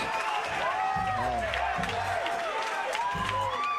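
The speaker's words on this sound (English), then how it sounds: "The crowd is going nuts cheering both men on" Boxing crowd at a Spar Star Show event cheering and whooping after a fight, a steady roar of voices and applause with whistling, while a commentator's voice speaks over it in short bursts.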